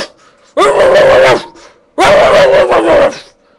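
Angry dog barking in two long, loud, dense bursts of snarling barks, close to the microphone and separated by a short pause.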